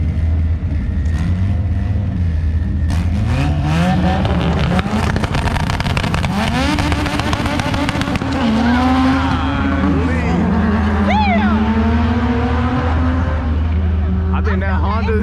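Engines and tyre noise from cars at a drag strip during a cars-and-coffee event, a Honda among them, roar loudly and continuously with rising revs, while people talk nearby throughout.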